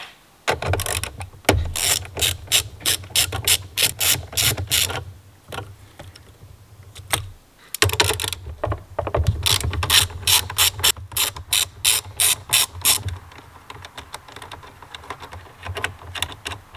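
Ratchet wrench undoing a 10 mm car battery terminal nut: rapid, close clicking bursts of the pawl in two long runs separated by a brief pause, loud and crisp with no speech.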